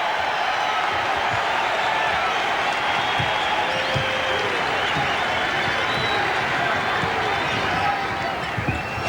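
Arena crowd at a 1997 Kansas versus Texas Tech college basketball game roars and cheers continuously, a dense steady wash of noise with faint ball bounces underneath and some voices mixed in.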